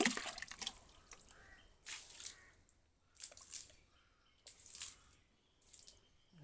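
Bleaching powder mixed into water is sprinkled by hand onto algae-covered ground, giving soft, faint splashes in short bursts about once a second against a quiet background.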